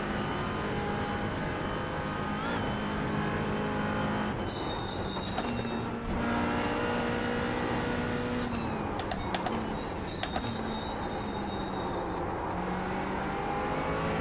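Race car engine in the iRacing sim at the Nürburgring Nordschleife, a steady, loud drone with rising and falling harmonic whine as the car accelerates and shifts, continuous throughout with no talk.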